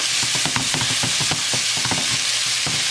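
Garlic and shallots brown in a hot pan with a constant loud sizzle, while a utensil stirs and scrapes in quick, irregular strokes close by, with no voices.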